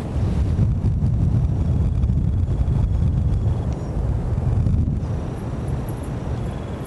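Strong winter wind gusts roar outdoors in northern Delaware near a highway, a loud continuous low rumble with buffeting against the microphone that swells and eases slightly over several seconds.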